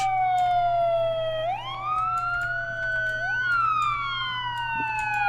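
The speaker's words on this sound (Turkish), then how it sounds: "Polislerin sirenleri bayağı fazla geliyor." A loud video-game police car siren wails continuously, its pitch sweeping up and down in long smooth cycles over a steady low hum.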